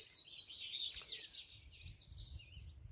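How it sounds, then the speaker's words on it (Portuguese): Many small birds chirp and twitter in trees around an old mansion, a dense, steady chorus of high, overlapping calls with no talking. "Tem muito pássaro por aí."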